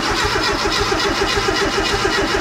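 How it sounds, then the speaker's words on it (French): A Renault R8 Gordini engine cranks steadily on its starter without firing, a loud, rhythmic churning pulse repeating several times per second throughout. "on va tirer au démarreur pour faire monter la pression d'huile"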